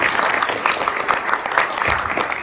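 A crowd at a technology event applauding presenters steadily, a dense wash of many hands clapping at close range with no pause.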